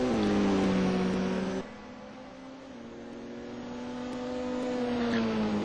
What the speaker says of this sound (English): Phil's going up the inside of Mike as we leave the Melbourne Loop and enter Goddard's. Mike's tucking up BMW tightly in behind